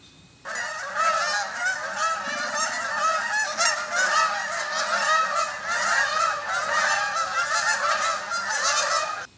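A dense flock of Canada geese honking continuously, many overlapping calls close by, loud and steady throughout with no talking.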